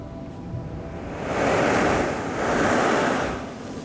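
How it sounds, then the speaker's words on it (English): Ocean waves surge in and out of cracks in coastal rocks under a full moon, a steady broadband rush that swells twice in slow breath-like pulses, with light wind noise on the microphone. "You can hear it like as the waves were kind of moving in and out, you can like hear it breathing."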